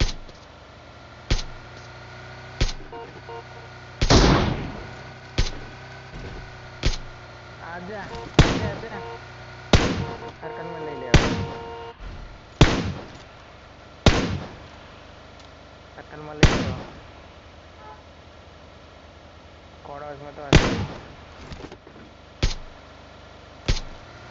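Repeated gunshots in a mobile shooter game ring out as sharp, loud bursts spaced a second or two apart, some in quick pairs, over a low background hum.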